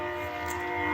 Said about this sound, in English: that's a train. I live by a train.